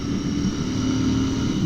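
Royal Enfield air-cooled 650cc twin with a 270-degree crank runs with a low, lumpy, steady engine rumble, close and continuous, with no voices over it.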